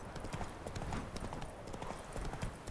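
Horse hooves clip-clop steadily in The Witcher 3: Wild Hunt, a continuous galloping rhythm close up over game ambience, with faint talk now and then.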